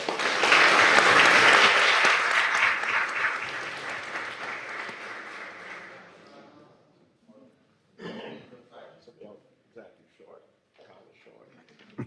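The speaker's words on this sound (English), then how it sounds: "So please give them another round of applause." Applause at a board meeting for a parish champion baseball team: a loud burst of many hands clapping that gradually fades away over several seconds, followed by quiet room noise and a few soft voices.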